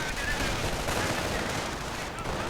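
MG42 machine gun fire in a World War II strategy video game: dense, continuous rattling gunfire, sustained and loud across the whole moment, with some faint background battle noise.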